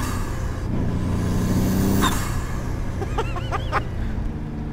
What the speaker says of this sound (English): all these massive chatters and fizzes from the wastegate as it opens and closes and dumps boost